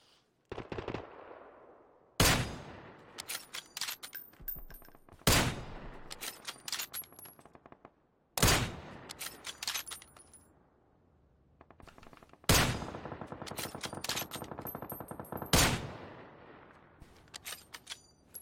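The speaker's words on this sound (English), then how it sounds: "I'm fucking shooting him." Video game gunfire: several loud, close bursts of automatic fire, each starting with a sharp crack and running for a second or two, separated by short gaps and quieter stretches across the whole passage.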